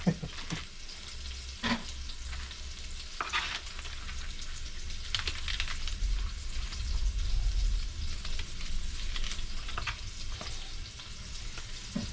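Blackened fresh speckled trout sizzles steadily in a hot pan, a continuous soft frying hiss with occasional sharper pops and scraping clinks as the fish is moved, and no talking.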